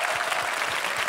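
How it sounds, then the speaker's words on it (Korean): Brief burst of studio audience applause on a Korean military-themed TV show, dense and continuous clapping for just over a second. "저 동창 두 친구에게 여러분 박수 한번 힘차게 보내주세요"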